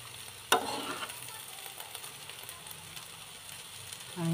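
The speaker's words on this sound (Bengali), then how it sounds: "এই যে আমার করলা ভাজি হচ্ছে।" Bitter gourd slices frying in a pan with bay leaves, a steady close sizzle broken by a sharp clatter of a utensil and occasional stirring scrapes, no talking.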